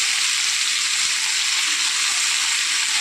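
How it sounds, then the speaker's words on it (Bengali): Vegetables frying in oil in a wok before adding greens: a loud, steady hiss of sizzling oil, unbroken and close, with no talking. "সবজিগুলো তেলের মধ্যে দিয়ে দিচ্ছে"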